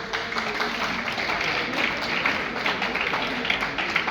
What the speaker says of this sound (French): Je vous demanderai d'applaudir pour notre roi.